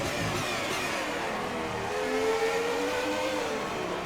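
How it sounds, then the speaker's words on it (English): Race cars in an F1 mod roar steadily and loudly, engine pitch climbing and shifting under a constant dense drone throughout, with no voices. "Cars sound good."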